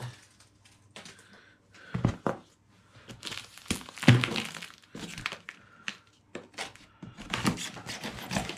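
Cardboard box for a 70cc mountain bike engine kit being cut open and unwrapped, with scattered crinkling, tearing and scraping bursts, close and fairly quiet, with no talking.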